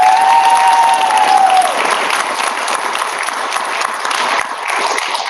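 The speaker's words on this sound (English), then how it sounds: "Let's hear another round of applause." Sustained round of applause from a school audience at a secondary-level event in the Rocky Mountains region, dense steady clapping filling the hall, loud and continuous with a brief whistle near the start.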